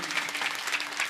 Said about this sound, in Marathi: आणखी जोरात टाळी वाजवा बरं तुम्ही